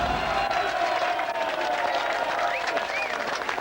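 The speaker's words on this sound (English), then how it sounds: "McAvoy getting a big cheer from the crowd on the terracing just below us here" A dense crowd on the terracing at a 2008 Whitehaven v Sheffield rugby league match applauds and cheers a try, with loud sustained clapping, scattered whistles and a commentator's voice faintly over it.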